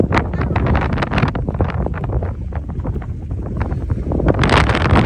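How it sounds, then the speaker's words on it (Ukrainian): Strong wind over fields buffets the microphone in continuous heavy gusts, roaring and rumbling throughout, with faint muffled voices beneath. "Вітер сьогодні страшний просто."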